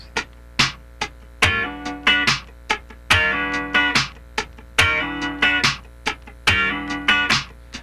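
Funky electric guitar riff using the funk slide technique with the picking hand floating, rhythmic sliding chord stabs and muted scratches, repeating in a tight groove, played alone and up close.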